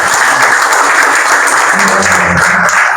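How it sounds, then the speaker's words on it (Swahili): Dense, loud applause from an audience at a talent sponsorship event, continuous clapping filling the whole stretch with a faint voice briefly underneath. "wapige makofi"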